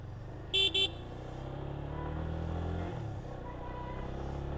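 A Yamaha FZ25 motorcycle engine running smoothly at low revs, a steady low hum throughout with a short double horn toot near the start and a slight drop in pitch later.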